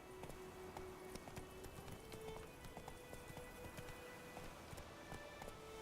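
Roach, a horse in The Witcher 3 video game, gallops in a rapid, steady clip-clop of hooves that runs throughout, faint and low in level, with a few tonal game sounds mixed in.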